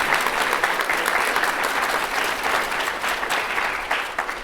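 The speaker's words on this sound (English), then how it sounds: "So I want you to give a big round of applause to this Board of Education who really supports us." A school district audience gives a sustained round of applause to the Board of Education, with a dense, even crowd clapping throughout.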